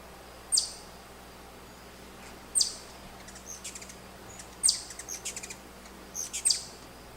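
Short high-pitched calls from a small bird, four clear chirps spaced a second or two apart with fainter twitters between them, played on their own with no talk over them.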